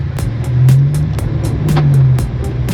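A Lamborghini rolling off-road, its engine a loud, steady low drone with a rising and falling pitch, overlaid by a rapid series of sharp clicks and knocks from the rough ground.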